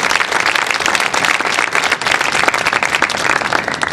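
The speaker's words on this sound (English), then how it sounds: "Let's give ELACC and Maria Cabildo a big round of applause" Dense, steady applause from a crowd at an event for ELACC and Maria Cabildo, marking the kickoff of the Boyle Hotel-Cummings Block restoration; loud and continuous throughout with no break.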